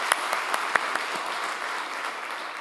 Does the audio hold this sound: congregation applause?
yes